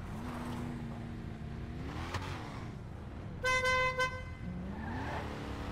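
A car horn in a GTA 5 Online car meetup before airport drag races gives one short honk in the middle, heard alone over a steady engine and road rumble from idling vehicles.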